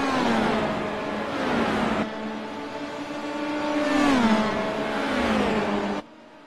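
A race car engine revs loud and close, pitch sweeping up and down through several gear changes before abruptly cutting off near the end as the damaged car pulls in behind the wall.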